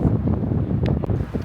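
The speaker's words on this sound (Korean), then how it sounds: "바람이 너무 많이 불어가지고 사람이 휘청거릴 줄 지금 불어서" Strong gusting wind roars across the microphone on the spring summit of Cheontaesan in Chungbuk, a loud, continuous low buffeting throughout.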